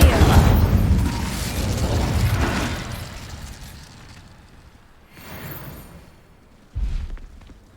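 Fiery Incendio spell cast in the Hogwarts Legacy video game during Percival Rackham's Trial, a loud whooshing burst that fades, with a second softer flare and a sharp thump near the end, over faint game voices.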